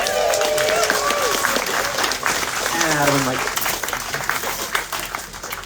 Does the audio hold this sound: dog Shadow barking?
no